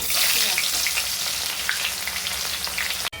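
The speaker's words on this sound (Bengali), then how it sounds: "পেঁয়াজটা আমার একটু লালচে করে হালকা লালচে ভাজা হয়ে গেছে" Sliced onions fry in hot oil with whole garam masala and dried red chillies in a pan for chicken bhuna, giving a loud, dense, continuous sizzle at close range with no talking.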